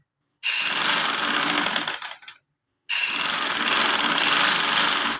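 A sewing machine stitches a shalwar in two sustained, steady runs with a brief stop between them. The machine is close and loud, and no one speaks.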